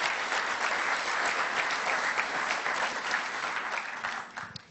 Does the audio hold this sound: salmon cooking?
no